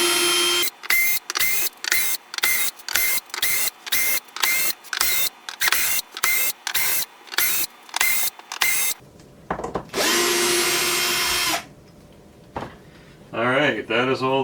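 A power driver backs screws out of a Kibler Colonial Long Rifle kit shipping crate in a string of about fifteen short, rapid whirring bursts. A longer sustained run follows, then a pause, and a voice briefly at the end.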